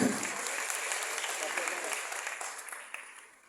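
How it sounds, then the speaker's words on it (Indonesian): A youth gathering audience applauds for people from Central Papua, a dense wash of clapping that fades out over a few seconds with a speaker's voice over it. "tepuk tangan buat teman-teman kita dari Papua Tengah"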